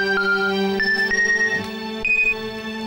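A phone ringtone plays a loud, steady electronic melody of stepped tones, ringing continuously and close by with no talking over it.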